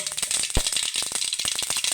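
Mustard seeds crackle and pop in hot oil, a dense run of sharp spluttering bursts with one stronger low thump, loud and close with no voices.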